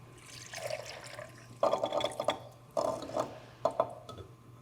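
Liquid is poured into a batch of rich homemade moisturizer, arriving as several splashy gurgling bursts separated by brief pauses, close and clear over a faint steady hum.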